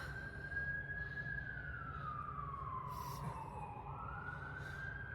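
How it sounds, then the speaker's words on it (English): An ambulance siren passes at a distance, one long wailing tone sliding down and back up, faint under steady background hum. "if you hear the ambulance coming by"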